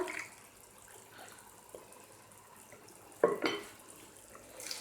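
Chicken stock poured into a pot for peas pilaf, a soft splashing pour with a brief louder gush near the end, over a quiet kitchen background.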